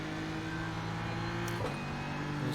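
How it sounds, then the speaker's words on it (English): Race car in iRacing at Knockhill Racing Circuit at full throttle onto the straight, a sustained steady engine whine with a brief bump midway, loud and close with no talking. "we're full throttle onto the straight"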